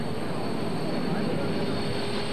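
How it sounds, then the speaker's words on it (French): Russian Antonov transport aircraft carrying rally motorcycles and cars for a Paris–Samarkand–Moscow rally raid produce a constant, droning engine roar, steady and fairly loud with no break. "Donc des avions de transport russes qui peuvent transporter non seulement des motos, comme vous le voyez, des voitures"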